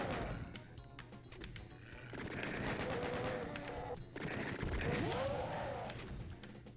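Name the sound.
chaingunner enemies firing chainguns in the video game Doom 2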